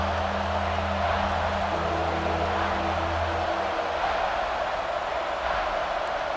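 A stadium crowd in EA Sports College Football 26 during a red zone third-down play: a dense, constant roar of cheering fans, loud and sustained, with a low droning chant underneath for the first few seconds.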